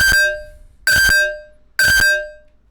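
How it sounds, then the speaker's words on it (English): Three punchy hits about a second apart, each followed by a ringing, metallic tone that fades out, like a kick drum run through a phaser. "You can hear that sort of metallic sound at the end."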